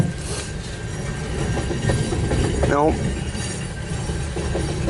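A long CN eastbound mixed freight train, gas and coal cars behind locomotives 8904 and 8804, rumbles past at Port Huron, Michigan, with steady close wheel noise and a brief squeal midway.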